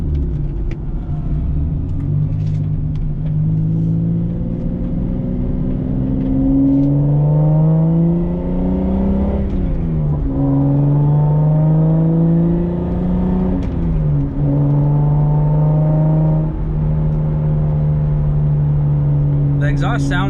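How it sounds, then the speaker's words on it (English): A manual-swapped Toyota Supra's exhaust drones loudly from inside the car while driving, rising and falling through several gear changes with a deep, steady rumble, with a voice speaking over it at times. "The exhaust sounds pretty good too."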